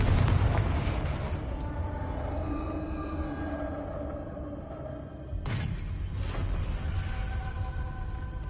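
A Confringo explosion spell goes off in Hogwarts Legacy with a sharp burst and booming crackle, followed a few seconds later by a second blast, loud and close within game ambience.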